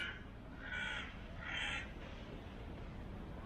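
Two harsh crow caws near the Orhan Gazi Tomb while a cat tries to catch the crow, a short pause between them, somewhat distant over a low outdoor rumble.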